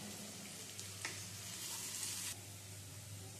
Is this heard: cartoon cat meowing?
no